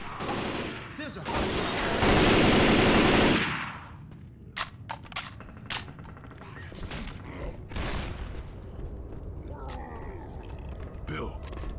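Assault rifle gunfire in the zombie shooter Left 4 Dead 2: a loud sustained burst of automatic fire over the first few seconds, then scattered sharp single shots and other game noises, with voices talking throughout.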